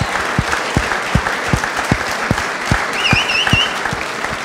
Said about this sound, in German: Ich denke, das verdient Applaus.